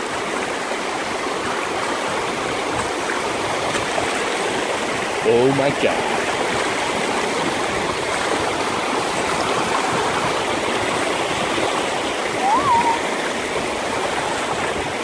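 A river flows steadily with continuous broadband rushing and gurgling water at a wild hammock camp, filling the whole scene, while a person briefly exclaims partway through.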